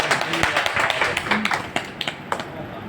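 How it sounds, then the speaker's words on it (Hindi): Audience claps to welcome a speaker at an LIC motivational talk in Aonla: brisk, continuous clapping, fairly close, with voices and a brief tone under it. "इनका जोरदार तालियों से स्वागत।"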